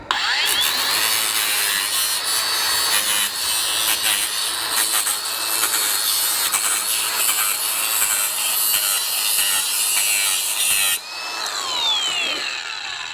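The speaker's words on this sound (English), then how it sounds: "Got my safety glasses on, got my angle grinder, got my cutting wheel on there." An angle grinder with a cutting wheel bites through material in one loud, continuous, high whine for about eleven seconds, then winds down and starts again briefly, with no speech.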